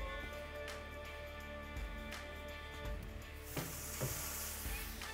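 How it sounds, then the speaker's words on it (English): Faint sizzling hiss of beef ribs on a Hasty-Bake grill, steady and low under a constant humming drone, with a few soft clicks and knocks. "I love to hear that sizzle"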